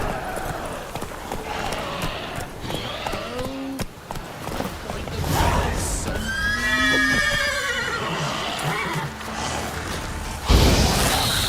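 Roach, a horse in the video game Witcher 3, whinnies loudly several times over steady galloping hooves, with game sounds in the background.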